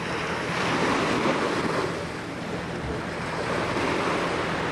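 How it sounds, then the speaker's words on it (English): Big ocean waves around ten feet break along an island's north side, a loud, continuous roar of surf mixed with heavy wind buffeting the microphone. "Big waves out there still."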